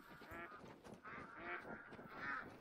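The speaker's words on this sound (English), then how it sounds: "We got ducks coming over as well." Ducks in the hunting game theHunter: Call of the Wild at Layton Lake, several loud nasal quacks in quick bursts, fairly close and alone.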